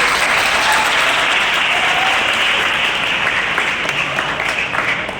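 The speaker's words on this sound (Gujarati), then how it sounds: "એકવાર ફરીથી જોરદાર તાળીઓ થઈ જાય." Loud, dense applause from a crowd at a high school seminar, sustained throughout and tapering off slightly near the end.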